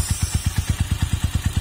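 A motorcycle engine fitted with a Showa CDI runs at a steady, heavy idle, its low exhaust pulses thumping in an even rhythm of about eight beats a second, close and alone.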